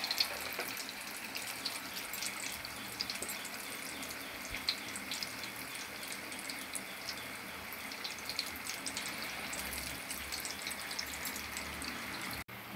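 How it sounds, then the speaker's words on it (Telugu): Sweet purnalu dumplings, dipped in batter and dropped into oil, deep-fry with a steady, even hiss and fine bubbling that runs unbroken throughout at moderate loudness. "మొత్తం ఇందులో ఇలా ముంచి తీసుకొని ఆయిల్లో ఈ విధంగా వేసుకోవాలి"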